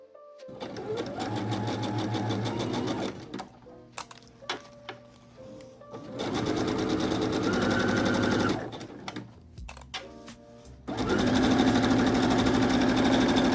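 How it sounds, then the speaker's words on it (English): A sewing machine stitches the center back seam of a trench coat's back lining in three long bursts of rapid needle chatter, separated by pauses filled with clicks and fabric handling. "Sew the center back seam of the back lining pieces."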